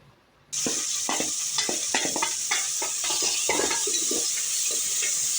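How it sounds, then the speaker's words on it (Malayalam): Onions frying in hot oil in a pan for chicken kurma, a steady close sizzle with repeated stirring scrapes throughout, no talking. "ഇനി നമുക്ക് ഇതിലേക്ക് ഉള്ളി ഇട്ട് കൊടുക്കാം"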